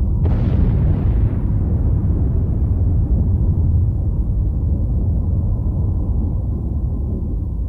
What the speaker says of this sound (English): investigators decided to blow up some aircraft